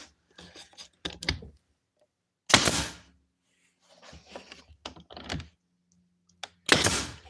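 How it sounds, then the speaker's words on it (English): Two sharp pneumatic nail gun shots drive nails into a wooden frame in a workshop, spaced several seconds apart, with softer handling thumps and rubbing between them. "God, this nail gun is so much better."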